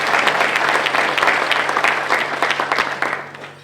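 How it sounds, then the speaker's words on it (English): An audience at a library event gives a burst of loud, continuous applause with dense clapping that starts strong and tapers slightly toward the end, with no talk over it. "you can clap now."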